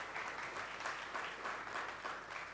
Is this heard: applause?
yes